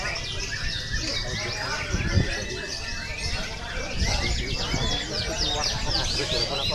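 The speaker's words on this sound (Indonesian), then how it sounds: "dari tadi di belakang apa namanya ada burungnya" Birds chirp and tweet in the background, with short repeated calls scattered behind a person talking nearby.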